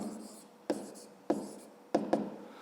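A pen writes numbers by hand on paper, several distinct close taps and short scratching strokes in an uneven rhythm, with no talk.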